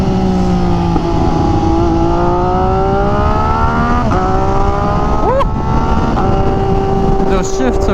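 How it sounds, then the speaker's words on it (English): An MV Agusta Superveloce motorcycle with an SC Project exhaust drones loudly and steadily under acceleration, its rising engine tone climbing through gear shifts, with a sharp shift blip near the end. "it has that exhaust and it gives you that, like, really nice MV tone"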